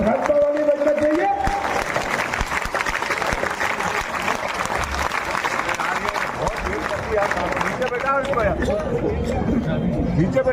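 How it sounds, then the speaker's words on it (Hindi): A large outdoor crowd at a BJP road show and public meeting in Harda claps loudly and steadily, sustained applause mixed with cheering and crowd noise after a brief amplified voice at the start. "जोरदार ताली बजाकर हमारे भाजपा के युवा नेता मेरे छोटे भाई अनिल पटेल जी का जोरदार ताली बजाकर स्वागत करें।"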